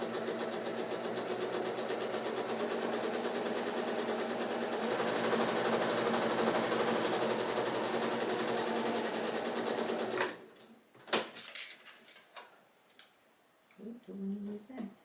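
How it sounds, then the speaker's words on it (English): A sewing machine runs steadily at speed stitching a quarter-inch seam along diagonal lines on a quilt block, a close continuous whir for about ten seconds, then stopping into handling clicks and rustles. "just sew a 1/4 inch down the side of those diagonal lines"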